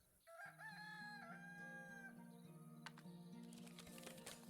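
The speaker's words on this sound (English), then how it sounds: "Still trying to figure out what's making the chicken sounds." A rooster crows in the Lords and Villeins town-building game, a long drawn cock-a-doodle-doo over a sustained musical drone, followed by clucking and scattered clicks.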